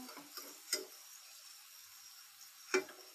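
A spoon stirs rui fish curry in a pan, making two brief, faint scrapes about two seconds apart over a soft, steady sizzle.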